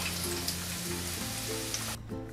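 Potatoes frying in cooking oil in a frying pan give a steady close sizzle with soft crackle and a low hum underneath, running continuously until the sizzle drops away near the end.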